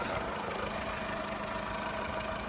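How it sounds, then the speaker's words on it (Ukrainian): A 2009 Skoda Fabia Mk2 estate with a 1.4 MPI petrol engine idles steadily, a smooth, even hum with a faint mechanical tick and no revving, heard alone without talk. "двигунчик мурчить"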